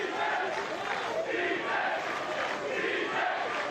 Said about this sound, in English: The crowd cheering defense, defense.